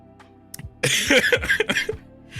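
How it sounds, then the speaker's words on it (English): A few sharp, forceful coughs close up, a short burst and then a longer run of rough hacking that gradually trails off. "Give me a second, let me cough one more time."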